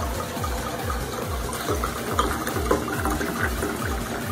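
A cup of triple sec glugs out into a mixing container in a steady, rhythmic series of close gurgles, each pulse of liquid repeating at an even pace throughout.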